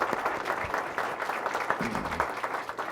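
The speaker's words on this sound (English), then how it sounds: "Let's have a round of applause for the ROTC Color Guard." A city council meeting audience gives the ROTC Color Guard a steady round of applause, many hands clapping together at moderate volume, with a few murmuring voices underneath.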